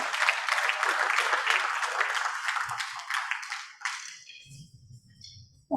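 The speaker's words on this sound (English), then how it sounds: "we want you to have a more enthusiastic round of applause." Enthusiastic audience applause fills a hall at an advertising industry awards evening, a dense, sustained clapping that holds steady for several seconds before thinning out and fading, with a brief low voice near the end.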